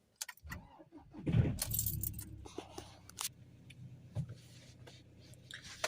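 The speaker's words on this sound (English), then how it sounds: "So let's start this vehicle up." Keys jangle and a car is started, a burst of metallic clinking and rustle followed by a low rumble and a few scattered clicks, all fairly quiet and close, with no speech.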